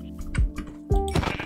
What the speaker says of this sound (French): Oh, il y a des moutons de partout là.